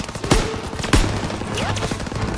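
Covering gunfire in Call of Duty WWII: sharp close rifle and machine-gun shots crack out in a quick burst over a rumbling battlefield background, two strong reports standing out.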